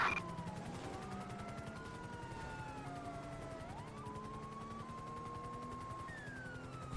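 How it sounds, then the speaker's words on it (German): A police siren wails continuously through a GTA 5 soundscape, with a low engine rumble and faint rapid gunfire-like clatter underneath. "Der Sirene hier."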